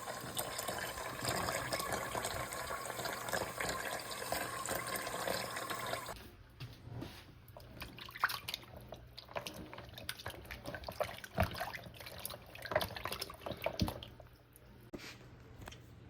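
Tap water running and splashing over brined meat being rinsed for an Irish outdoor cooking meal, a steady wash for the first six seconds, then quieter drips, squishes and handling sounds.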